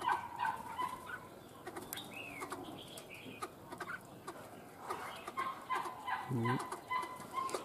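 Birds in an aviary with a pair of spotted doves give scattered clucks and calls with bursts of wing flapping and one low throaty coo, all fairly near, with no talk.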